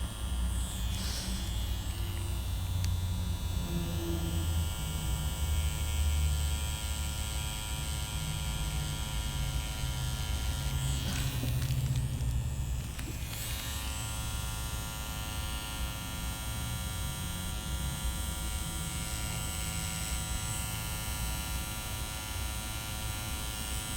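A tattoo machine buzzes steadily while lining a tattoo at a live tattooing session, a constant electric hum running close and unbroken throughout.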